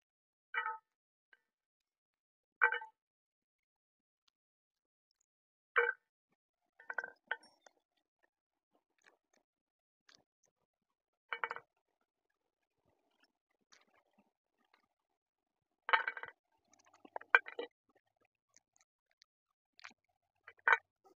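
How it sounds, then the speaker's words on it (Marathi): Green pea pods split open by hand in a quiet room: sparse, crisp snaps and small cracks come alone, a few seconds apart, with a short cluster of soft clicks near the end. "आता शेंगा सोलून घेते"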